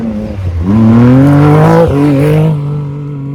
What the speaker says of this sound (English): Got some buggies coming past.